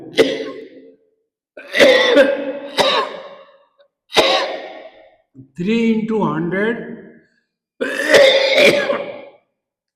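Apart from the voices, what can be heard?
coughing and throat clearing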